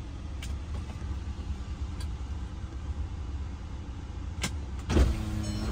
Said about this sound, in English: Now, put the top down.